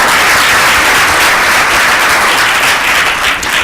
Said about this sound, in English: A round of applause for the academia people.